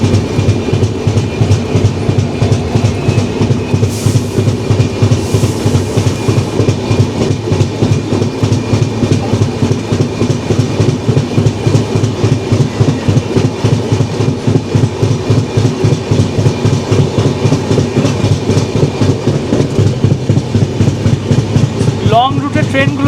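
Kanchankanya Express running on rails near Chapramari forest, loud onboard rumble with a steady, evenly spaced clickety-clack of wheels over rail joints throughout, and a brief squeal near the end.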